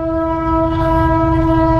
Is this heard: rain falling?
no